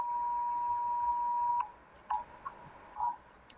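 A phone or computer sounds an emergency alert, a steady electronic beep tone held for over a second, then stops, followed by a few short scattered beeps and clicks at moderate volume in a quiet room.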